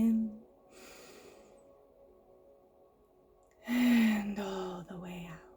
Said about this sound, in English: let's just take one moment to breathe